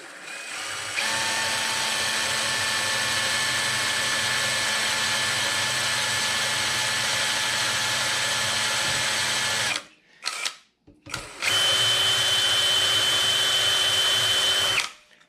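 Bench lathe turning lawn mower bolts, a steady close machining whine with high tonal harmonics running for about nine seconds, then a brief stop-start before resuming at a slightly higher pitch.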